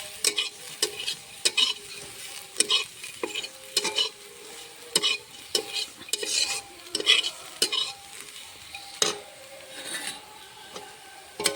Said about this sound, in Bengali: আমি হালকা করে লঙ্কার গুঁড়ো দিয়ে নেড়ে চেড়ে নামিয়ে নেব